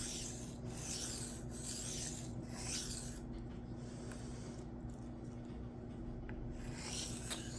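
A Cold Steel Kudu Lite knife is drawn across a Shapton Glass 220 sharpening stone in light passes, producing a series of soft, close, rhythmic rasping strokes with short pauses between them.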